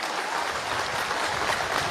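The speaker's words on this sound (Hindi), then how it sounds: "जोरदार ताली बजा करके स्वागत करो" A crowd at a mass wedding ceremony claps in dense, sustained applause, steady and fairly loud with no talk over it.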